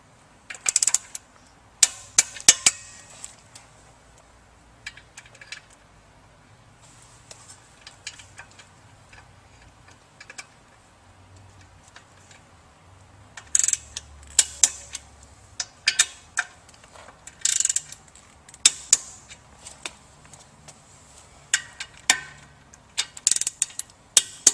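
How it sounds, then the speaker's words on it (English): Ratchet wrench tightening the motor bolts on a water pump motor, heard as quick bursts of close clicking ticks separated by short pauses, with no talk. "we'll go ahead and torque down the motor bolts."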